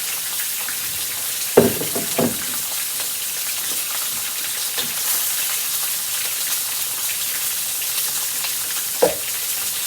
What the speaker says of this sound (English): just took oil from my fish I'm frying